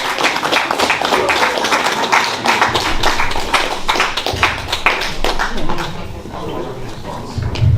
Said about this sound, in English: So if we can please give a round of applause for Miss Thelma